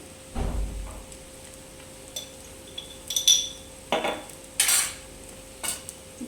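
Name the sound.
mixing egg fried rice in a pan with a spoon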